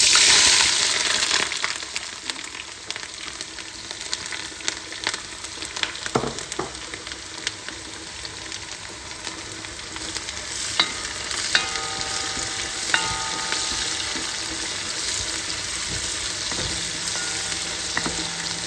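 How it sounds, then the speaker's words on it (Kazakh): Onions sizzle loudly in hot oil for plov, a dense, continuous frying hiss with occasional pops and stirring scrapes, close up and with no talking. "Міне біздің майымыз қызып тұр екен. Мен ең бірінші пияз саламын."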